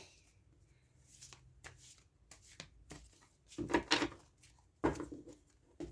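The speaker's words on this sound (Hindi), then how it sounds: "I'm just shuffling the cards so that I can get the answers from your divine." Tarot cards are shuffled in the hands: quiet, intermittent riffles and slaps that build into a few louder, sharper bursts near the end, close by and with no talking.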